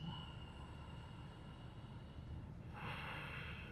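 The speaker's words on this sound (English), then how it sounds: "Take a few deep breaths." Slow deep breathing during a soft yoga flow, a long audible breath followed by a fuller exhale near the end, quiet and close.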